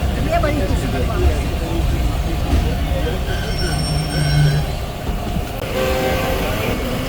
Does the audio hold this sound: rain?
no